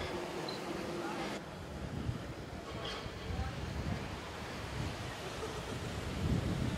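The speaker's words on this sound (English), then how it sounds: "we are on the beach" Surf on a Bahamas beach behind a Paradise Island hotel, a broad steady wash of waves mixed with gusty wind noise on the microphone, continuous and fairly loud with no clear breaks.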